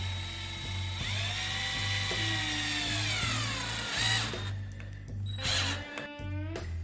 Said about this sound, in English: Then we'll take the drill, and I'm gonna zipper it if I can.